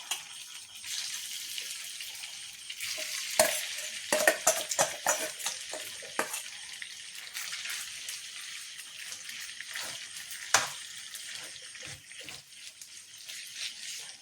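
Marinated food shallow-fries in vegetable oil in a pan, a bright, hissing sizzle with scattered stirring knocks and spatters, fairly quiet and settling into a softer steady crackle.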